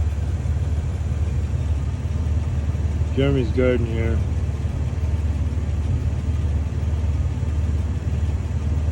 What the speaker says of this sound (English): All the harmonic balancer and distributor newness that has just been put into the truck is sounding like crap now